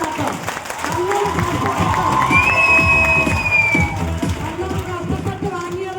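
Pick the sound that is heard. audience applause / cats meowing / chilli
audience applause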